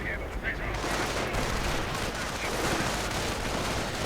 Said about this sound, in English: some Grenadiers getting gunned down horrifically